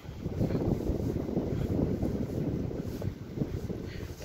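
Strong cold wind from the sea buffets the microphone on a seafront promenade in Yalta during a hurricane, in a continuous low roar, gusting unevenly throughout with no other clear sounds.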